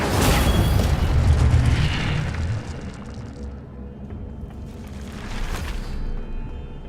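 An Incendio fire spell cast in Hogwarts Legacy bursts as a loud roaring whoosh of flame that fades into a rumbling tail, followed by a second, softer flare, with no voices over it.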